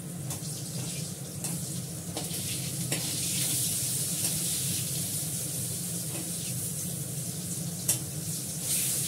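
Pointed gourd (potol) sizzles steadily in a pan, with a spoon stirring through it, occasional clinks and scrapes over the constant frying hiss.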